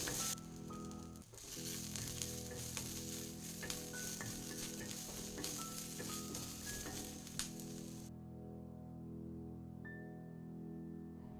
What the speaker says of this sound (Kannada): ಈಗ ಸ್ವಲ್ಪ ಎಣ್ಣೆ ಹಾಕಿ ಇದನ್ನು ಸ್ವಲ್ಪ ಕಲರ್ ಚೇಂಜ್ ಆಗೋವರೆಗೂ ಫ್ರೈ ಮಾಡ್ಕೊಳ್ಳೋದು